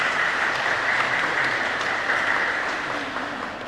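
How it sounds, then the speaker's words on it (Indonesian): Church congregation at Paroki Situbondo Maria Bintang Samudera applauding the young people (OMK), a steady wash of many hands clapping together that fades slightly toward the end. "Tepuk tangan buat OMK kita di sini."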